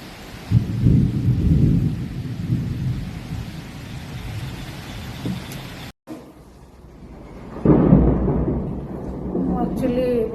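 A heavy rainstorm with thunder outside a house: deep rumbles of thunder roll in near the start and again toward the end, over a steady wash of rain, heard from indoors.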